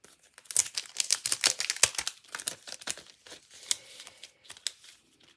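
Someone tears open a small plastic packet of tiny rhinestones for card-making, with busy crinkling and rustling close to the microphone and no voices.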